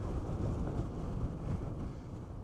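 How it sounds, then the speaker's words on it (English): Strong gale wind blows outdoors along an energy-line walk near St Mary, a steady dense roar buffeting the microphone for the whole stretch, with no voices. "on a day like today, it's blowing an absolute gale"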